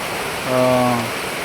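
Rain falls steadily over farmland, a broad, even wash of noise, with a brief voice sounding over it midway.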